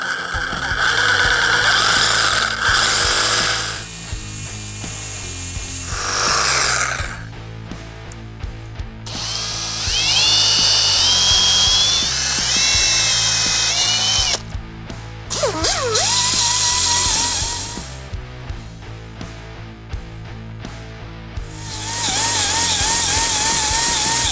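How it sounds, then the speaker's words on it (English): A power tool cuts the corners off an aluminum plate in repeated loud, close bursts of harsh screeching grinding, separated by short pauses as each cut ends. "I'm gonna cut these corners off just so that they don't stick out."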